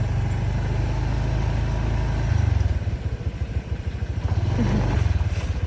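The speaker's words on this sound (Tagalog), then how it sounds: "May motor sa likod natin." Motorcycle engine running close behind riders on a road near Anda, Bohol, a steady low rumble that swells and dips with throttle changes throughout.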